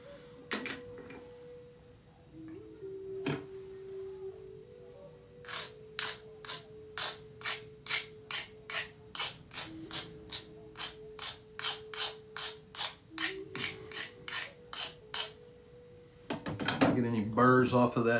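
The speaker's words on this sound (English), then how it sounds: "we're gonna do some more pressure flaking now to try to set this one up" Antler tool pressure flaking a stone point, heard as a long run of about two dozen sharp, evenly spaced clicks and snaps, close and fairly crisp, over a steady low hum and faint background noise.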